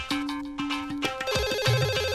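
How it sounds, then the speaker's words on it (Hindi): A phone rings in a comedy scene, sounding as a series of bright, repeating electronic ring tones that switch pattern partway through, close and loud with no voices over it. "टेलीफोन की घंटी बज रही है सर"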